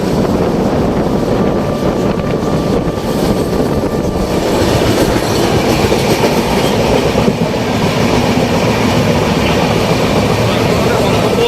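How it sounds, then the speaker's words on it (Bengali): A passenger train rolls along with steady rumbling, faint clickety-clack and wind buffeting the microphone, loud and continuous throughout, arriving at Ghatshila. "তো পৌঁছে গেছে আমাদের ট্রেন"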